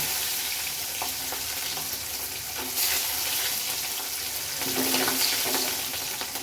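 Garlic sizzles and fries steadily in hot oil in a pan, a continuous close crackling hiss with occasional stirring, for a garlic chitranna rice dish.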